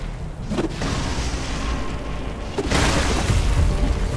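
An Arta is destroyed in the video game Atlas Fallen, marked by a deep boom over a steady rumbling game soundscape, with a second heavier blast that leaves a lingering low roar.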